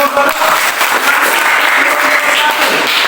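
Applause fills a classroom after a group of student teachers finishes a mathematics presentation, loud and dense clapping from a close audience, steady for a few seconds.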